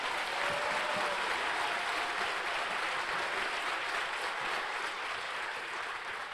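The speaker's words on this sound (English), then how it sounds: "So let's give them a round of applause." Crowd at a military basic training graduation applauding an Army band, a steady wash of many hands clapping that holds for several seconds at a moderate distance and tapers slightly at the end.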